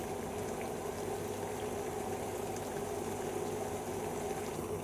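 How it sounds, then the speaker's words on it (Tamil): Water for butterfly pea flower tea boils on the stove, a steady, dense bubbling and hiss that runs evenly throughout at moderate level with no talking. "தண்ணி நல்லா பபிள்ஸ் வந்துருச்சுங்க"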